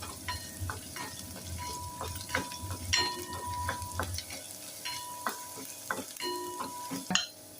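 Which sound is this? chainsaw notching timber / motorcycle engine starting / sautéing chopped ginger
sautéing chopped ginger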